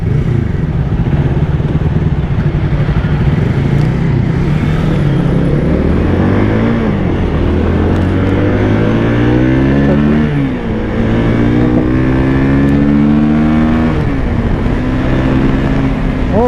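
FKM 3GP 300cc sports motorcycle engine runs steadily at idle, then revs up and down repeatedly in rising and falling sweeps, loud and close throughout with no talk.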